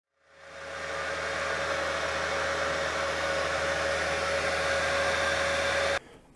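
A small Handy Heater space heater blowing hot air in an enclosed bathroom: a loud, steady blowing roar with a constant whine starts up and runs evenly, then cuts off abruptly near the end.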